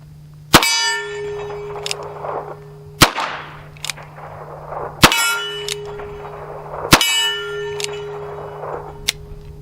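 Bullets from a Chiappa 1873-22 revolver strike a steel target at the range, giving four sharp ringing clangs about two seconds apart. Each metallic ping trails into a fading hum.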